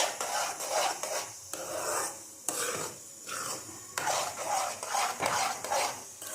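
A spoon scrapes and rasps rhythmically through thick white kesari in a pan. The strokes are close, repeated roughly every second, and no one speaks.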